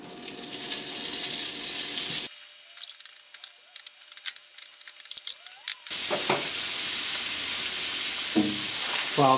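Beef frying in an olive-oil-slicked pan gives a steady, close sizzle that drops out for a few seconds of quiet with scattered clicks and taps, then returns just as loud with stirring scrapes.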